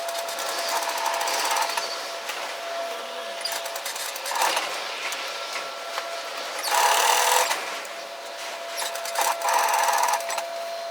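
A sewing machine edge-stitches a pocket onto a Japanese-style cross-back apron, running in steady mechanical bursts with short pauses between runs and no talking.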